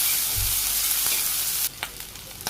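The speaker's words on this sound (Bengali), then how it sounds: "পেঁয়াজ আর কাঁচামরিচ একটু ভাজি করে নিই।" Chopped onion and green chili frying in hot oil in a Bangladeshi village kitchen, a steady loud sizzle that drops off sharply partway, followed by a few short stirring scrapes against the pan.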